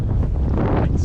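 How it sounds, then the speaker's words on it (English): Strong coastal wind buffets the microphone in a brief, loud, rumbling gust with turbulent low roar at a rugged shoreline during fishing. "It's so windy."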